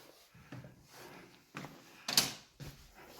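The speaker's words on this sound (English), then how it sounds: "you have an insect screen as well, so you pull that out" An insect screen being pulled out across a villa's front door: several soft sliding and rattling movements, ending in a sharper, brighter swish and a final thud, close by and fairly quiet.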